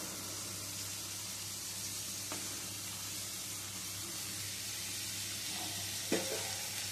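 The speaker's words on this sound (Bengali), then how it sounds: "আলু দিয়ে মশলার সাথে আবারও কষিয়ে নিচ্ছি।" Potatoes sauté with spices in a hot pan for a vegetarian dish, giving a steady close sizzle with a couple of brief scraping stirs.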